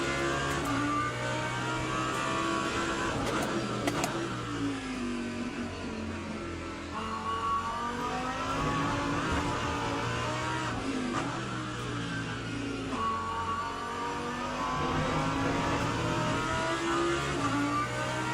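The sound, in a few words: race car driving in video game Le Mans Ultimate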